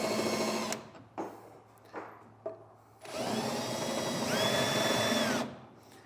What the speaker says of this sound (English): this bracket is going to act as a template now to drill out the holes in our frame